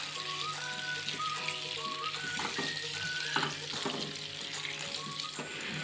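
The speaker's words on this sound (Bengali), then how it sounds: "আলুটাকে এখন আমি ভেজে নেব।" Potatoes frying in a pan with turmeric and salt, a soft continuous sizzle with light clinks and tonal kitchen noise in the background.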